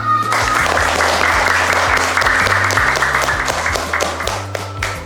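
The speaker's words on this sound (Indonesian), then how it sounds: "Silakan tepuk tangan dulu" Classroom of elementary pupils clapping together for a classmate's answer during an Indonesian-language lesson, dense steady applause with a low tonal hum underneath, tapering slightly near the end.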